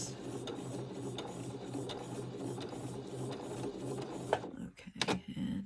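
A sewing machine runs steadily while stitching vintage fabric in reverse, the needle held at the very edge, making a continuous mechanical whir with regular ticks before it stops near the end, followed by a few brief clicks.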